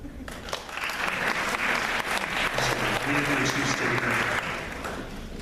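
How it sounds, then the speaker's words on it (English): Applause from a corporate kickoff meeting audience swells quickly into a fairly even burst of clapping, with a few voices murmuring underneath, then eases slightly near the end. "What, no round of applause there?"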